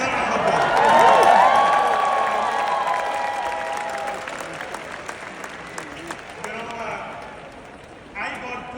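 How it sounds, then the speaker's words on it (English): A convention crowd in Las Vegas applauds loudly, the clapping swelling then gradually tapering off, with scattered cheers. "Give yourself a round of applause."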